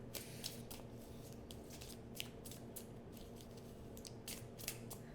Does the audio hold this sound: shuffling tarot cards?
yes